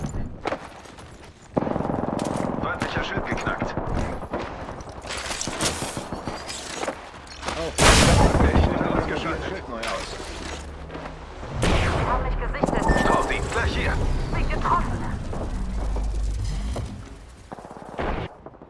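Gunfire in the video game Apex Legends cracks out in sharp, irregular bursts and heavy booms of varying loudness, with a voice speaking over the shooting at times.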